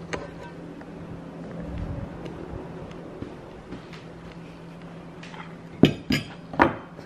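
A spoon is grabbed from a cutlery drawer in a home kitchen, giving a short cluster of three sharp metallic clinks close by near the end after a few seconds of quiet room hum.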